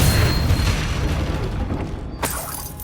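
A Confringo spell blast in the video game Hogwarts Legacy gives a loud, heavy, rumbling explosion that fills the clip, followed by a sharp shattering crack near the end.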